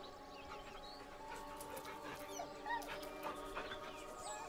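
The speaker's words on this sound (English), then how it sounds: "The dog whimpers nervously" A dog in the Baldur's Gate 3 video game whimpering nervously, a series of soft, high, wavering whines and small yips at moderate distance over quiet ambient game sound, with no speech.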